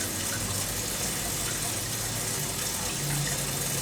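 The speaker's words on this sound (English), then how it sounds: "Alright, the tank is filled up with water." Water runs steadily into a shrimp aquarium tank being filled, a continuous broadband rushing and splashing at even loudness throughout, close and without any voices.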